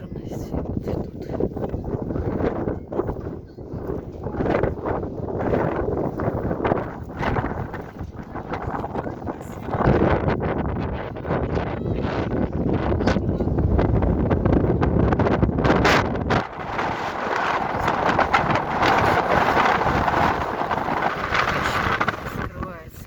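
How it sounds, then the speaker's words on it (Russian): Strong wind buffets the microphone on an exposed hilltop, roaring in loud gusts that rise and fall. A voice talks intermittently beneath it. "Чем выше, тем ветер сильнее."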